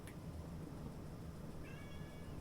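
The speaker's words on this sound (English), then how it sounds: "He's really meowing." A cat meows briefly and softly near a train simulator setup, with a single short call rising over a low steady background hum.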